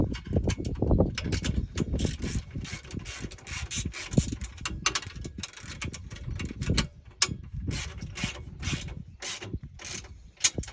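Socket wrench and ratchet tightening a nut onto a washer and lock washer while mounting a solar panel, with a steady stream of close mechanical clicking and rattling throughout.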